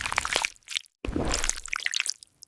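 Thick black ink drips and squelches from the bristles of a huge paintbrush in a stop-motion scene, giving wet squishy blobs and splats in two bursts split by a short silence, close and fairly loud.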